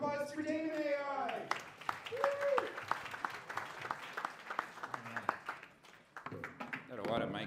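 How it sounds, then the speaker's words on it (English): Audience applause at a San Francisco startup pitch night, clapping for an AI product pitch, with a presenter talking over and around the steady crowd clapping. "All right, round of applause for Dame AI."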